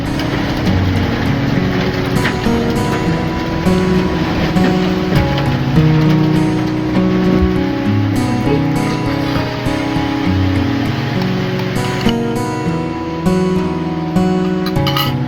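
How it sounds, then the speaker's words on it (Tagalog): Strong typhoon wind and heavy rain during Typhoon Uwan, a loud continuous roar of gusts and downpour with rattling and shifting tones throughout. "Lakas ng hangin."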